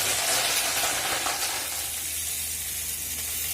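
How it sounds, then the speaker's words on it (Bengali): Hot oil sizzling and crackling steadily as fish roe from a bata fish is dropped into the pan, a bright hiss that eases slightly toward the end, with no talk. "দেখো তেল গরম হচ্ছে, এবার বাটা মাছটা এই ডিমটা দেবো।"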